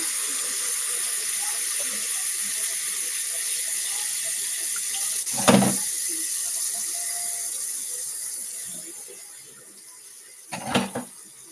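Water runs from a kitchen tap in a steady soft hiss while dishes are rinsed, broken by two brief louder splashes or clunks near the sink.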